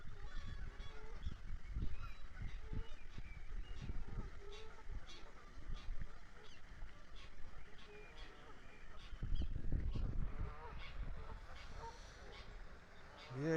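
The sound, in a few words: ducks calling in a park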